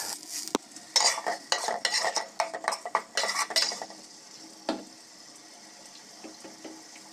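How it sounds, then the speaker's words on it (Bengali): Fried fish is stirred into spice masala in a pan, giving a burst of scraping, clattering utensil strokes that fade after a few seconds into quieter sizzling and an occasional clink. "এখন ভাজা এগুলো আবার মশলার মধ্যে দিয়ে দিচ্ছি কষানোর জন্য।"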